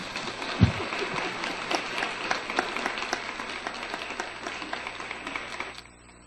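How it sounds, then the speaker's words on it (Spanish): An audience applauds professor Carlos Betancourt, a sustained patter of many hands with a few louder nearby claps, fairly close, ending abruptly near the finish. "Agradezcamos con un aplauso al profesor Carlos Betancourt,"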